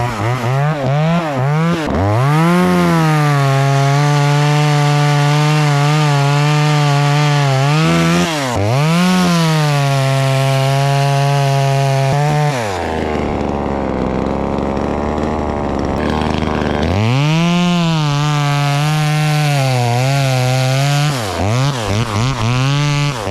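A $135 budget chainsaw cuts through a chunk of wood. The engine screams at high revs, bogs down to a lower labouring pitch in the middle of the cut, then revs up again. It is loud and close, with no talking.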